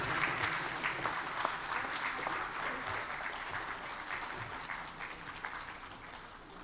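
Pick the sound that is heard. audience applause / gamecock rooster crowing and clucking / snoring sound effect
audience applause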